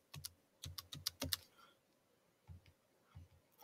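Keys clatter on a computer keyboard as values are entered into a graphing tool: a quick burst of taps, a pause, then a few isolated strokes, all faint and close.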